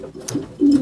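Imported French meat pigeons on a farm coo softly and close by, two low throaty coos with a faint rustle between them.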